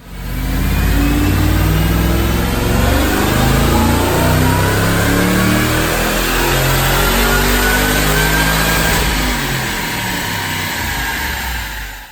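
Supercharged 2008 Bullitt Mustang, otherwise stock apart from a large AFCO radiator, roaring through a sustained full-throttle dyno pull, loud and close, its engine note climbing steadily for about twelve seconds before easing slightly at the end.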